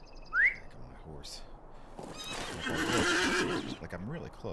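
A horse in Lord of the Rings Online gives a brief rising whinny, then hooves and a longer snorting neigh follow among bird chirps in an open outdoor game scene, moderately loud.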